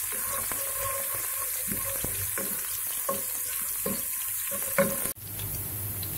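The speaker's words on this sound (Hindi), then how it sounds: "अब इसमें प्याज डालेंगे, प्याज को हम सॉटे करेंगे।" Onions sautéing in a pan for aloo tahri give a steady close sizzle and frying hiss, with stirring scrapes at regular intervals and a sudden drop in the sizzle near the end.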